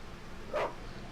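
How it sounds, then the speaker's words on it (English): A dog in The Witcher video game gives a single short bark, moderately loud and clear against a quiet background. "What are those dogs doing?"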